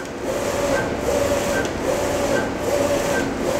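A WER A1 ED6090UV UV flatbed printer prints on hockey pucks, its print head sweeping back and forth in a steady rhythmic whir with faint periodic clicks and squeaks, loud and close, with no talk.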